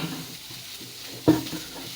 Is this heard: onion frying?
yes